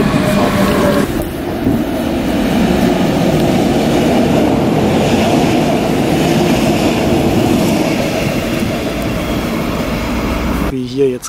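A German BR 420 electric train rumbles past close by in Düsseldorf, a steady loud rolling roar with faint rail clatter, fading at the end under a brief voice.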